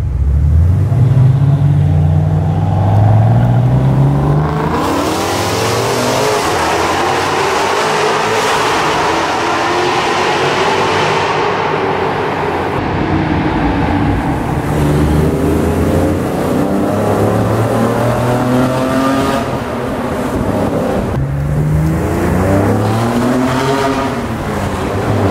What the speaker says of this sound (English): the smell and the sounds and the total overall experience of driving a 300 SL Roadster